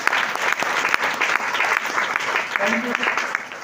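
An audience applauding at a talk, dense steady clapping throughout, loud and close, with a voice faintly present underneath.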